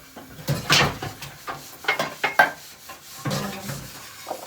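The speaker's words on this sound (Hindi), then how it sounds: "ये बर्तन साथ साथ समेट देती हूँ ना, थोड़ी सी किचन साफ हो जाएगी।" Clattering metal pots, utensils and cutlery are gathered up in a home kitchen, with irregular clanks, scrapes and knocks of varying loudness close by and no talking.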